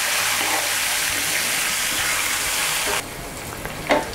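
Tempering of dried red chillies, sesame seeds and curry leaves frying in oil in a pan for tamarind rice, a steady, loud, close sizzle that drops sharply to a quieter hiss partway through.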